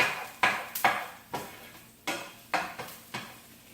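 A utensil stirs noodles in a hot pan, making a series of scraping, clinking strokes about every half second, close and moderately quiet, with light sizzle underneath.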